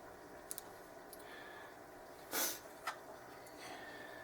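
A person with a cold sniffles through a runny nose, a few soft nasal snorts with one stronger sniff in the middle, close and quiet with no talking.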